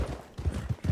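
Horse hooves gallop in a video game with a quick, rhythmic clip-clop of low thumps, close and steady, with nothing else prominent.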